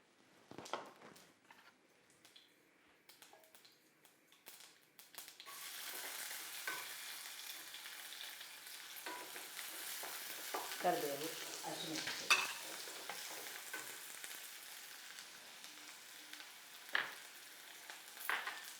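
Onions fry in oil in a home kitchen, a soft sizzle rising after a quiet start with intermittent stirring scrapes and clinks, fairly faint and without speech.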